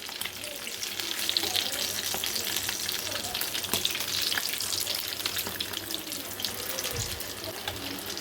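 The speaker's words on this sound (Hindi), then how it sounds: "लो गैस पे हम कबाब को फ्राई करेंगे।" Cheese kebabs fry steadily in a pan over a low gas flame, giving a continuous close crackling sizzle with faint clinks and bubbling throughout, no voices.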